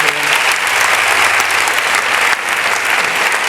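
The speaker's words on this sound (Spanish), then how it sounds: "vamos a despedir a Soledad con un fuerte aplauso" Loud, steady applause from a conference audience sending off a speaker after a talk on governance and sustainability, dense clapping holding evenly throughout with a brief dip near the end.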